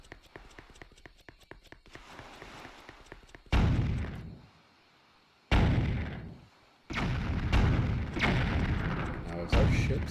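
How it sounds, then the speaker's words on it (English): Cannons fire in a Zelda video game, giving several loud, heavy booms in quick bursts with short silent gaps between them. Voices talk quietly in the background. "The cannons are after us."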